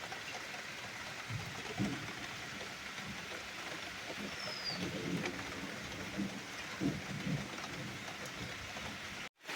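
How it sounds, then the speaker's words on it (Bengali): Constant rain patters and hisses close by while low, muffled rumbles of thunder roll faintly underneath. "সকালবেলা থেকে যেরকম বৃষ্টি চলছে আর সেরকম মেঘ ডাকছে"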